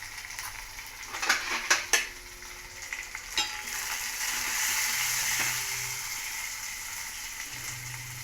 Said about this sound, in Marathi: छानशी कडक फोडणी बसली.